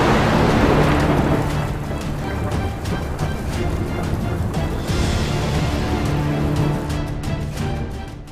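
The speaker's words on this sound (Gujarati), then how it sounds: "ચોમાસા પહેલા જામ્યો ચોમાસું। સૌરાષ્ટ્રમાં મુશળધાર શરૂઆત।" A heavy early-monsoon downpour in Saurashtra, Gujarat, with thunder: dense, steady rain noise fills the whole stretch, with low rumbling underneath and no voices.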